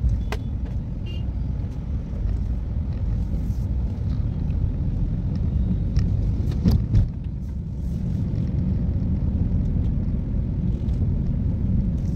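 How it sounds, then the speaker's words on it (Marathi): A city road jammed with auto rickshaws carries a steady low rumble of idling and creeping engines, with a few faint horn toots and a brief louder vehicle pass midway, no voices. "इथं रिक्षावाल्यांनी ट्रॅफिक जाम केलंय पॅसेंजर भरण्याच्या नादात."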